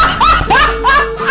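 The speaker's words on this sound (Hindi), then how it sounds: "अरे कौन भौंक रहा है ये बदतमीज?" Three short, yelping barks in quick succession, close and fairly loud, with a bright, cartoonish tone.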